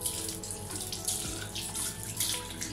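Lukewarm tap water runs steadily into a sink while a brush is rinsed, a continuous close splashing stream with no talk over it.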